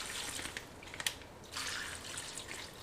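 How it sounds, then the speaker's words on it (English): Liquid chicken marinade mixture with vinegar poured from a container for Chamorro BBQ, giving a soft, steady trickling and dripping sound with a brief splash near the middle, faint and close with no talking. "And then just pour half of this liquid mixture in."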